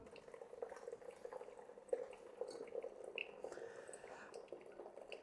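Hot water trickles and drips softly through ground specialty coffee in a Kalita Wave 185 pour-over filter, a faint, close, continuous pour with small splashy droplets and light bubbling.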